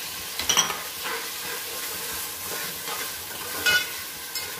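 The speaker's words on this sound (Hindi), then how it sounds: "मटर फ्राई कर लेंगे," Green peas fry with ginger-garlic paste in a pan for pulao, a continuous close sizzle and hiss marked by a few clinking stirs of a spoon.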